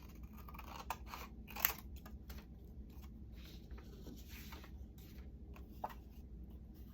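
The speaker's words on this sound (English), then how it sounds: "And just cut out a center of the time card as well." Scissors snip out the center of a paper time card, with a few quiet, close cuts and soft paper rustling in an otherwise still room.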